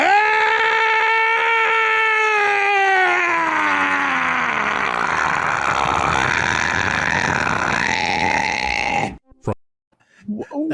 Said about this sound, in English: I can't remember what caused that specific scream.